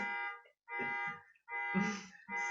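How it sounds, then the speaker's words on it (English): An alarm sounds in repeated harmonic tones, each lasting roughly half a second to a second with brief gaps between, moderately loud and alone. "sorry, I have an alarm going off."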